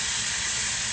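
Bacon sizzles loudly in a pan as a dense, constant broadband hiss that fills the whole moment without letting up.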